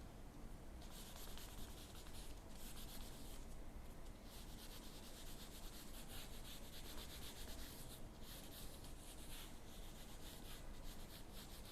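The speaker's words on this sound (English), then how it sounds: "Now I will rub this one." Steady soft rubbing on a classroom board as writing is erased, continuous faint scrubbing strokes with no talking over it.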